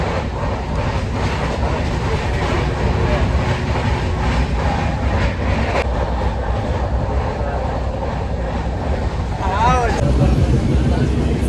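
Inside a moving passenger train carriage, a continuous loud rumble and rattle of wheels on rail carries a steady clickety-clack throughout, with faint voices in the background.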